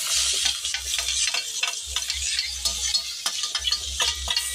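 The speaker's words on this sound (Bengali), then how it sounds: "হালকা সেদ্ধ হয়ে গেছে, তাই আবার নাড়াচাড়া করে নিচ্ছি।" Lightly cooked vegetables, about to get chopped tomato and capsicum, stirred in a pan with repeated scraping strokes over a steady soft sizzle, close and continuous with no talking.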